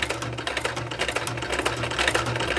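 An old sewing machine stitches lace onto a book cover, running continuously with a fast, even mechanical chatter over a low motor hum, close and loud for the whole stretch.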